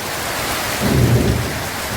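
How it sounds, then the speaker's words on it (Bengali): Steady rain hisses throughout, with a low rumbling swell rising briefly in the middle before settling back; no voices. "দেখেছো কেমন বৃষ্টি"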